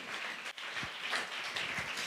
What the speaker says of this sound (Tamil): நல்லா 2 கையை தட்டி தேவனை மகிமைப்படுத்துங்களேன்